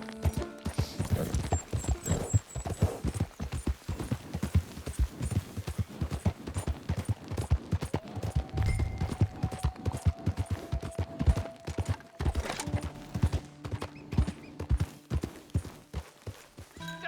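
Horse hooves clip-clopping in the video game Red Dead Redemption II, a steady rapid rhythm of hoofbeats throughout with an occasional whinny and game music underneath.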